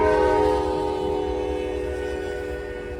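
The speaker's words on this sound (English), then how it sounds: "Going back to UP's SD70 Max, we see UP 4468 on NS26C" A Union Pacific SD70 Max locomotive, UP 4468, hauling a train past with its horn sounding loud and steady over the rumble and rail noise, slowly fading.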